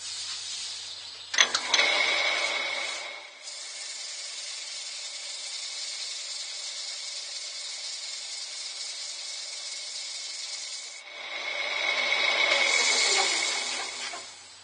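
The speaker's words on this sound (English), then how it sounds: "now I'll burnish that with some shavings, because there are plenty of shavings" A turned burnt olive ash bowl spinning on the lathe is rubbed with a handful of wood shavings, giving a steady hissing friction sound with a faint lathe hum, starting and ending with louder scuffing.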